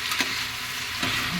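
Potatoes frying in a pan give a close, continuous bright sizzle, with a couple of soft stirring scrapes and no voices.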